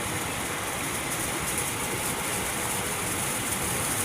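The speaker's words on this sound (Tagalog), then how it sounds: "Testing natin ang exhaust niya kung gaano kalakas" A repaired exhaust fan motor runs steadily with an even, whooshing hum and airy hiss, close and moderately loud, unbroken for the whole stretch.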